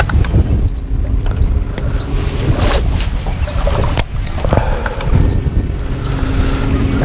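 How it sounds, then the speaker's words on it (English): Wind blows hard across a river in late November, a loud, steady rush with gusty buffeting against the microphone that runs through the whole stretch with no talking. "That wind is really blowing pretty good."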